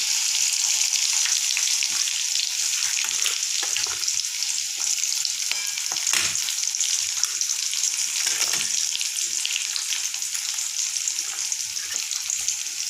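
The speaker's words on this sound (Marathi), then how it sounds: "यामध्ये मी आता एक बारीक चिरलेला कांदा घातलेला आहे. कांद्याला आता आपल्याला गुलाबी रंग येईपर्यंत परतून घ्यायचा आहे." Finely chopped onion sautéing in hot oil with browned garlic for a capsicum curry, a loud, continuous close-up sizzle with occasional stirring scrapes and no voices.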